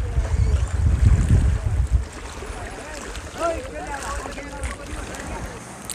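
A boat crossing the water at Mukutmanipur in Bankura, ferrying scooters and bikes, gives a loud low rumble with wind buffeting for about two seconds, then fades to a quieter wash under distant voices.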